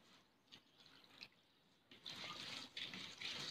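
One and a half cups of poha flakes are washed with clean water in a bowl: a few soft, separate splashes at first, then a fuller, continuous swishing and sloshing of water close by.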